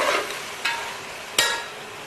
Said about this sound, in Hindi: डाल दूंगी गाजर, इसको भी 2 मिनट के लिए भूनूंगी, क्योंकि गाजर सख्त होती है